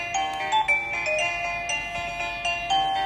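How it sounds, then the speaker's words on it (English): A wireless doorbell with LED night light plays a bright electronic chime melody of repeated ringing tones, loud and close with no talking. "It supports 32 optional ringtones alongside flexible volume control to fit your preference."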